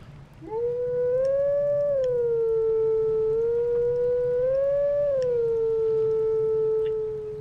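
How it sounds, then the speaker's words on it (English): A single long wolf howl from the game Zelda Twilight Princess, a clear tonal note that rises, dips and rises again before settling into a held tone over a low background hum. "Oh, they're teaching me a howl?"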